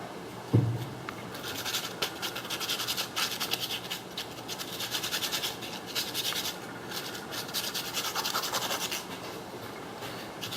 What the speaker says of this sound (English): Just get a little piece of sandpaper.